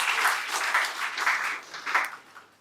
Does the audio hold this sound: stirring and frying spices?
no